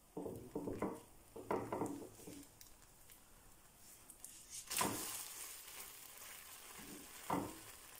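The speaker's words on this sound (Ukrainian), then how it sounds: "смажимо млинчики на середньому вогні" Crepe batter sizzles and crackles in a hot pan over medium heat, with bursts of frying hiss and a few clinks of utensils, close up and with no voices.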